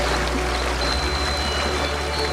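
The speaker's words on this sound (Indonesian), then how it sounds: "air bah datang lebih cepat dari yang aku perkirakan" Rushing flood water in a jungle river swollen by an upstream landslide, a loud, continuous broadband roar of churning water filling the whole clip without pause.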